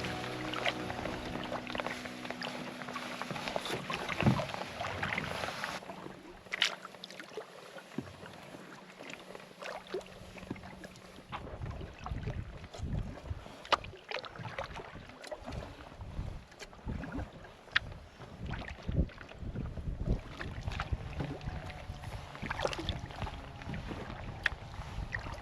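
Canoe or kayak on a spring paddle, with repeated splashes and drips from paddle strokes under steady wind and rushing water, no talk.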